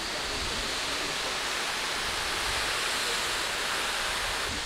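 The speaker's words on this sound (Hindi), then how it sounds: "I will explore and I will show you the waterfall पूरा पास में जाके" A steady, dense roar of Khandadhar Waterfall in Keonjhar, India, fills the air, broad and constant, heard nearby, with no voices.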